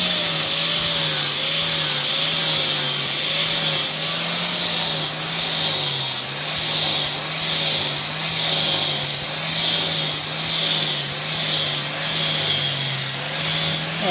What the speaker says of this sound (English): Get all the sanding marks going one way so it looks nice and pretty.